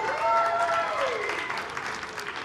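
Church congregation clapping during a service, a brief burst of dense applause filling the room with a few whoops or cheers riding over it, fairly loud and close.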